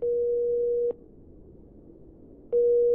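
Electronic door intercom buzzer in the video game Pyromaniac, sounding as a steady tone that rings for about a second, falls silent, then starts again, loud and alone.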